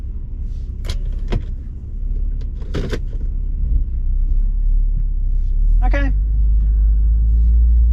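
Turbocharged Ford Falcon with a Barra engine at a race track: a few clicks and clunks, then the engine cranks and catches near the end, settling into a low, steady idle rumble. A voice speaks briefly.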